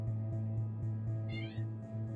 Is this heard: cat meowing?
yes